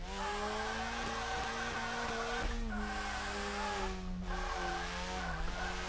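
A Mazda RX8 with a rotary engine drifts, its tires squealing in long sustained wails over a steady engine drone, with several brief pitch shifts as the car slides.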